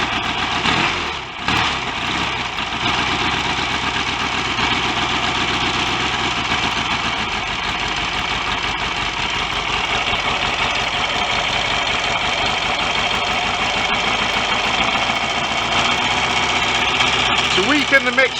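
A Royal Enfield Constellation motorcycle engine, ignition at full advance and fitted with a TT or GT carburettor, runs at a steady, loud idle for the whole stretch, with one brief dip in the rhythm near the start.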